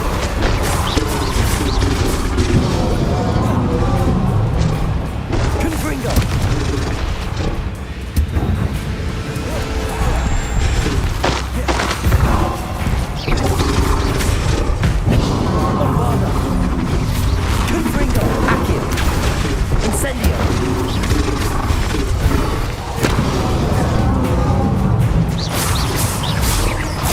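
Confringo spell explosions in the Hogwarts Legacy video game burst one after another in a dense, loud barrage of booms and crashes, with a voice talking over the steady stream of blasts.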